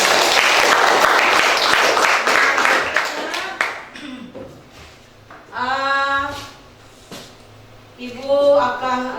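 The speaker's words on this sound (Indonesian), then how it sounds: "Kita beri aplaus semua untuk kita hari ini." Students in a classroom break into loud, dense applause for about four seconds, then voices take over with a brief second burst of clapping and chatter near the end.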